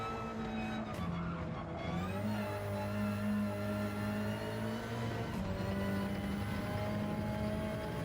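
A racing car's engine in Gran Turismo 7 rises steadily in pitch through the gears on a time-trial lap, a continuous droning whine with tire noise and a brief shift, no voices.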